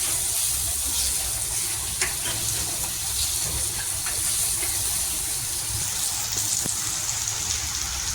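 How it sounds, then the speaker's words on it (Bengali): Spiced brinjal bharta being sautéed in a pan, a steady close hiss of cooking with faint scraping ticks throughout, no talking. "আর এটা সুন্দর করে কষিয়ে নেবো, আরও সুন্দর, একটু বেশি টাইম নিয়ে একটু কষাতে হবে যাতে সব মিক্স হয়ে যায়।"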